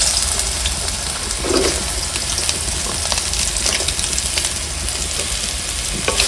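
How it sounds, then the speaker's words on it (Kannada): Ridge gourd sizzles steadily in hot oil in a pan, a continuous broadband crackle with a few faint clinks and stirring sounds, no talk. "ಈಗ ಎಣ್ಣೆ ಬಿಸಿ ಆದಮೇಲೆ ಹೀರೆಕಾಯಿ ಹಾಕ್ತಾ ಇದ್ದೀನಿ."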